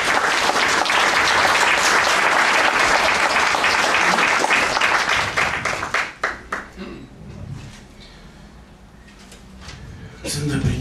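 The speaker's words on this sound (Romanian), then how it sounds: "Să-l aplaudăm și să-l mulțumim pentru toate." Audience applause for a writer at a book-signing event, dense and loud for about six seconds, then thinning into scattered claps and fading to quieter room noise before a brief swell near the end.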